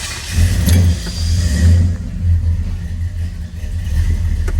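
A 1972 Oldsmobile Cutlass engine runs right after a cold start, a loud close low rumble with throttle blips that swell and settle as gas is given, steady throughout with no talk.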